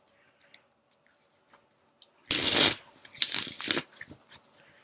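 Tarot cards shuffled and handled, a soft background tick and rustle followed by two loud, close bursts of riffling and snapping cards with brief gaps between.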